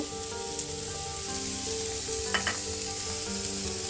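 Vegetables and mushroom frying in a pan for zucchini chow mein make a soft, steady sizzle, with a couple of light clinks partway through.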